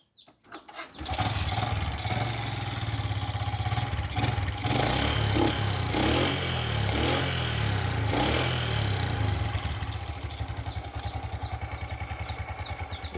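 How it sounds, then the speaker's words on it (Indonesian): A Suzuki Smash SS motorcycle engine sputters and catches after a brief start, then settles into a steady, close, rattling idle with slight throttle variations, no talking over it. "Oke, kita coba tes dulu mesinnya."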